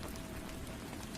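Steady ambient rain falls in a soft, even wash of patter, with no distinct drops standing out and no voices.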